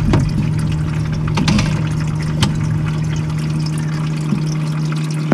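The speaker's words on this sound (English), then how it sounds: "And just pours water right through it." Water pours steadily through a faulty Maytag ice maker that fails to form ice, a loud, continuous rushing flow with a low mechanical hum underneath.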